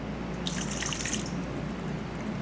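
Water is poured into a pot for Trini stew fish, a short, splashing trickle over a steady background hiss, with no talking.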